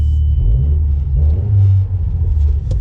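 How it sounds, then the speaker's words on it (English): A Mazda Speed 3's engine runs at a steady idle: a loud, deep, continuous rumble close by with slight fluctuations and no voices. "inside the Mazda Speed 3, let's go ahead and fire it up"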